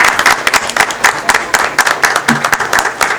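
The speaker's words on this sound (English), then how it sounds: "let's give Sarge a great big round of applause" A room full of people at a village board meeting claps steadily for a police sergeant, a dense, even burst of applause lasting throughout, with a few voices mixed in.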